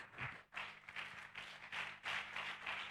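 A church congregation at an evangelists' seminary gathering claps in a quick, fairly regular rhythm, the claps soft and somewhat distant, with a brief pause near the start before the clapping resumes steadily.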